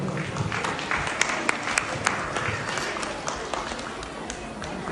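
An audience applauds at a Ganesha Chaturthi devotional fusion concert, with dense, steady clapping filling the hall for several seconds and a few sharper claps standing out, loud and close.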